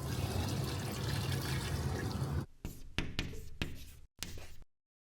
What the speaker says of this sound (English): So I'm gonna pour this back in.